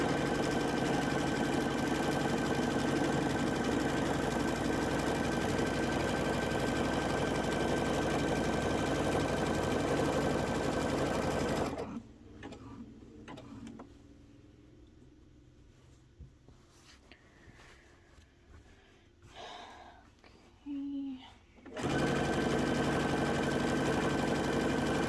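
A sewing machine stitches a quilt in a fast, steady mechanical whir, close and loud, stopping for about ten seconds of near quiet with faint handling before resuming at the same pace.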